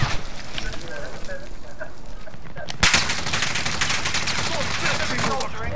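Rapid automatic gunfire from Call of Duty: Modern Warfare, a steady loud clatter of shots that thickens into a denser burst partway through, with a voice speaking underneath.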